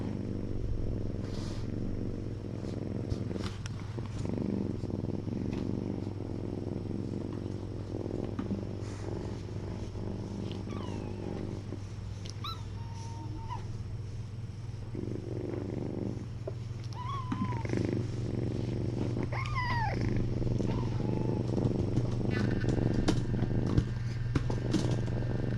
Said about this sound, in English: You hear him purring?